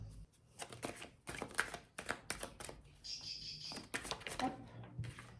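Tarot cards are drawn and handled during a reading, with soft, close shuffling and slapping taps of cards in irregular bursts and brief pauses between them.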